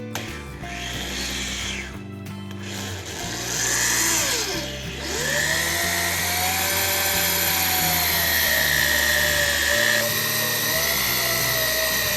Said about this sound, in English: we're going to drill our holes with a 9/32 drill bit